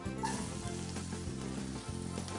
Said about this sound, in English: I want to give it a little stir, to saute it a little bit, to fry it a little bit, but not too much because I don't want to burn it